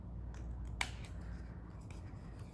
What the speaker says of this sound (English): I'm actually going to cut through this tape here